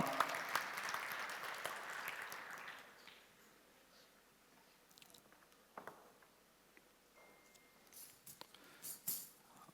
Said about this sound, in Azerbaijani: səhnəyə dəvət edirik sizin alqışlarınızla